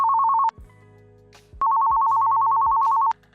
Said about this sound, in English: So as we can hear, the alert is coming in.